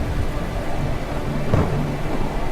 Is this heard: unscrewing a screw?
no